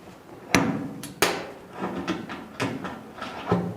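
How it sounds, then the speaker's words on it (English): A slide hammer pulling a stud on a Volkswagen Karmann Ghia: several sharp metallic slams, spaced irregularly, each a hard impact with a ringing tail, close by with scraping handling sounds between. "and this thing is called a slide hammer"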